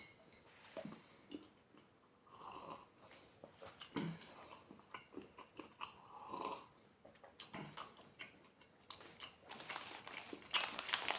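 Someone chewing milk chocolate filled with cola-flavoured popping candy, giving close, irregular crunchy bites and mouth sounds in quiet pauses, with louder crackly bursts near the end.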